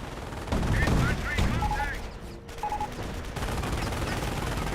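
Machine gun fire in the war strategy game Company of Heroes, a sustained rattling burst over dense battle noise with other gunfire and explosions mixed in, steady and fairly loud throughout.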